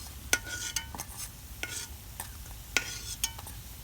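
Soft sizzle of palm fritters frying in oil under sharp metallic taps and scrapes as pieces are turned with a utensil.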